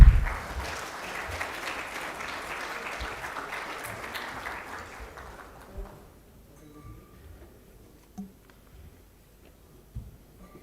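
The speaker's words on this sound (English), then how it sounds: "Can we have a round of applause, please?" Conference audience applauds to welcome a session moderator at a women's conference in Bahrain, a dense, steady clapping that fades out after about six seconds, leaving a quiet room with a few faint knocks.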